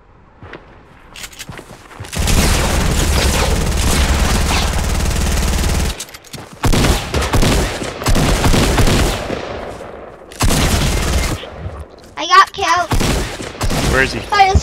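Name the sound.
gunfire in the video game Fortnite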